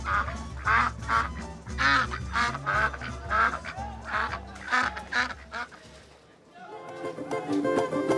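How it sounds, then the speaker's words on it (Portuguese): Duck escaping in a Portuguese-language comic scene, loud repeated quacking in quick bursts over a steady musical backing, close and prominent, followed by a shift to different background sound near the end. "Acorde, Antônio, que esse pato se escapuliu."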